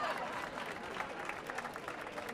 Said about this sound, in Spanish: podéis aplaudir